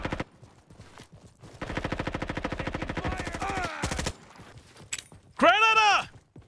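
MP5 submachine guns fire in a free first-person shooter game in a long, rapid burst of evenly spaced shots. Scattered game clicks and a short, bright chiming effect follow the burst.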